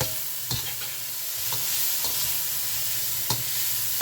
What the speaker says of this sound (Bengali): দিকে ব্রোকলিটাও নেড়ে দেই।